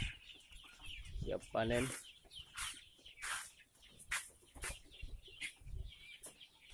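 Free-range kampung chickens, raised to 90 days on a farm with a brood pen, cluck and squawk in scattered bursts close by, with a voice talking over them.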